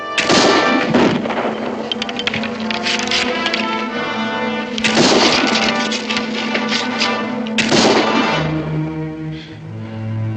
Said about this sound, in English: I never expected to see the day when I could fire more rapidly than you, Daniel.